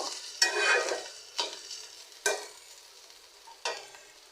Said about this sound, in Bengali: ভাজিটা এখনো চুলাই ভাজিটা আমি আরও একটু ভাজা ভাজা করব